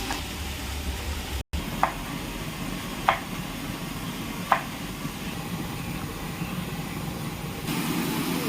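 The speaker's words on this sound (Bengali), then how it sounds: "এটাকে আমি একটু নাড়াচাড়া করা হয়ে গেল" Kerala sambar cooking in a pot gives a low, steady sizzle, while a spoon stirring it taps the pot in three light, spaced clinks.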